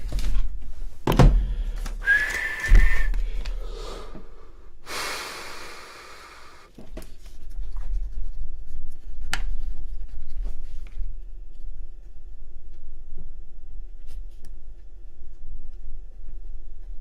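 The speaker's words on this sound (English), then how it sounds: "Let me write this down so I don't forget." A pen scratches out a handwritten note in short strokes early on, then a long quiet stretch with faint room hum and a few small taps.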